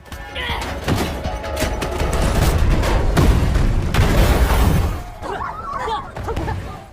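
A loud explosive blast with crashing, debris-like noise rolls on for several seconds, then tapers into scattered smaller clatter.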